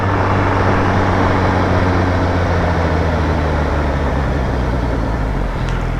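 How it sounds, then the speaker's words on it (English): Heavy truck tires roar steadily on the road while passing, a loud, constant broadband rumble that stays close for the whole stretch with no talking. "The truck tires are so loud."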